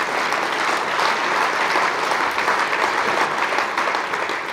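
An audience applauds at a small business awards ceremony, producing dense, even clapping from many hands that stays loud and constant for several seconds without letting up.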